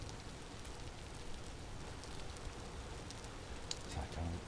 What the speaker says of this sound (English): Of course, it's pouring down rain again.